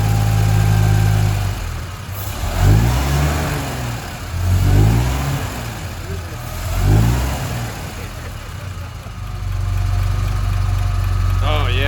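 A 1958 Mack B-21 fire truck engine, running after 30 years of sitting, idles loudly and rises in several throttle blips that sweep up and settle back, close by, with voices talking.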